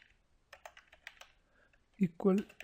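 Keys on a computer keyboard tapped while writing a line of programming code, a scattered run of soft clicks before a voice starts speaking close by.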